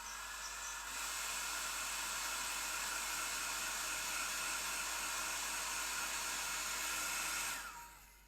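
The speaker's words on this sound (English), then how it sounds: "Maybe I'll just quickly get the hairdryer on the" A hairdryer blows steadily on a freshly painted watercolour figure, a loud, even whooshing hiss that starts abruptly, holds for about seven seconds, then cuts off.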